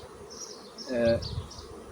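Honeybees from a strong colony hum around an open hive, a faint background drone that rises into a brief, closer buzz midway before settling back.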